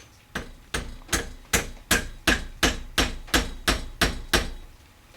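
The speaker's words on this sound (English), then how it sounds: "Put your wheel on, axle in, and nail it home." A hammer drives a nail axle into a pine wood derby car body in about eleven sharp, evenly spaced close strikes, loud and alone without talk.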